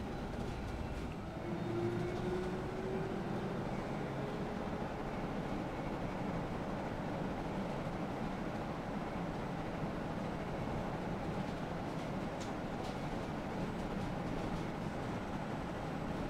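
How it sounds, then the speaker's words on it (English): An electric bus interior fills with a steady low rumble and road noise, a faint whine rising briefly near the start. "that is the sound of an electric bus"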